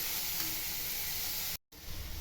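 Leaves for a jackfruit seed stir-fry hiss softly in an uncovered pan as they are stirred, a steady close sizzle that cuts out abruptly near the end before resuming.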